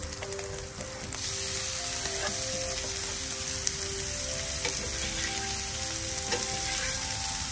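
Chopped medium onion frying with bacon in a pan, a steady dense sizzle that grows louder after the first second and crackles continuously throughout, with no voices.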